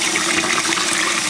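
Running water rinses Merlot wine-dyed yarn under a tap in a steady, loud, close gush with no pauses and no talking.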